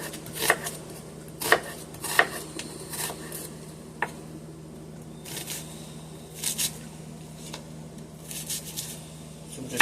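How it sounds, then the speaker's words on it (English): Knife chopping half an onion while preparing black-eyed peas with smoked turkey drumstick, a few sharp close cuts early on and more scattered chops later over a steady low kitchen hum. "I'm going to cut down half of an onion"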